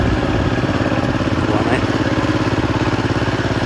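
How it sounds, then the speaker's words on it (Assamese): A tractor engine ploughing a field beside a village embankment in Assam, running as a steady low chugging drone throughout, with a voice talking over it. "আৰু এইফালে ট্ৰেক্টৰ হাল বাই"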